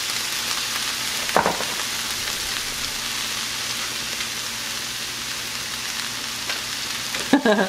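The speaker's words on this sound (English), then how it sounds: "now I'm gonna add my noodles" Noodles hitting a hot pan for teriyaki chicken chow mein give a loud, steady sizzle, with brief clanks of stirring near the start and end.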